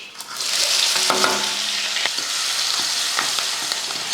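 Mustard seeds crackling and spluttering in hot oil in a kadai, a steady bright sizzle with scattered sharp pops throughout, close and fairly loud, no talking.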